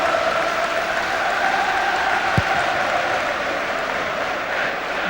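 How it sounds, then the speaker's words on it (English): A football crowd at a 2001-02 UEFA Cup match between Ipswich Town and Torpedo Moscow applauds in a steady, distant wash of clapping and murmur, with a single sharp thump partway through. "Crowd appreciative"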